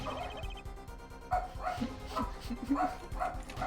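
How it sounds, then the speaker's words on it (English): Dog barking in the Apollo Justice courtroom video game, a series of short repeated barks and yips set over game music, moderately loud and fairly regular. "How could Lamoureux have heard the dog through it?"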